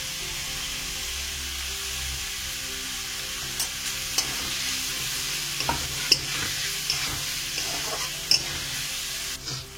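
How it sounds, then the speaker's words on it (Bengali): Spice masala with turmeric, salt, chili powder, sugar, cinnamon and cardamom for egg biryani sizzles softly in a pan, with scattered spoon scrapes and clicks as it is stirred. "মশলাটা ভালো করে কষিয়ে নিতে হবে।"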